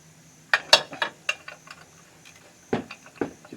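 A ratchet works loose a 10mm bolt on a 2002 Honda Civic during transmission range sensor replacement, sounding as a burst of sharp, close metallic clicks followed by a few more spaced ticks, with no talking.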